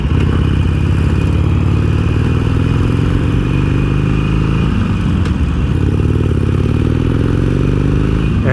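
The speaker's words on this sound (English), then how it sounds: "So what I got right here is a 2017 stock Iron 883." A stock 2017 Iron 883 motorcycle idles loudly and steadily up close, a continuous rumbling engine drone with a slight shift in pitch partway through.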